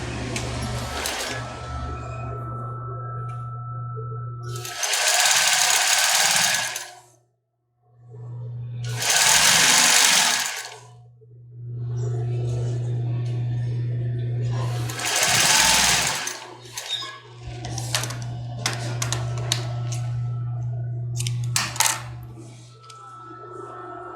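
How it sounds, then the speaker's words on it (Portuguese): Sewing machine stitching a padded foam bra cup, running in several loud bursts of steady whirring separated by short pauses, with a constant low motor hum throughout. "Vamos virar e costurar o outro lado."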